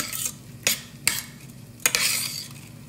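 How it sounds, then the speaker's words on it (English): Rice being stirred in a frying pan over very low heat, a spoon scraping through the grains in a few separate strokes over a soft sizzle, close and moderately loud with no talking. "Just keep stirring it on very low."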